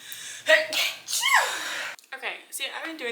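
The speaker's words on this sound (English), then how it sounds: "Oh, I gotta sneeze." A person sneezes while baking gingerbread cookies at home, with a sharp inhaled gasp building into a burst and a snort-like release, followed by breathy sounds, close to the mic.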